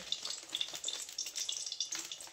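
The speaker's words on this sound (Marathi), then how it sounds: "इथं आता सुकं मटण करण्यासाठी कढईमध्ये तेल तापायला ठेवले" Oil heating in a kadhai for dry mutton crackles softly, with light, irregular pops and a faint sizzle throughout, quiet and close.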